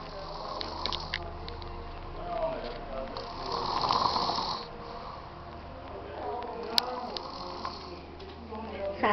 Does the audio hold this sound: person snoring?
yes